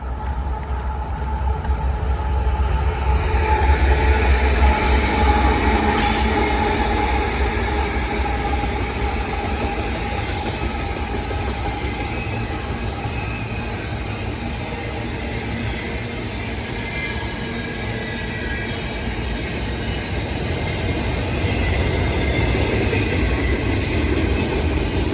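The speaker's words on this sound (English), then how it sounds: "The train is still going." A train rumbles past steadily for the whole stretch, a loud continuous low roar with rattling wheels and a brief high squeal partway through.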